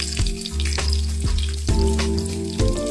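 Bell peppers dropped into hot oil with a knob of butter for ratatouille, a loud close sizzle broken by repeated stirring knocks against the pan.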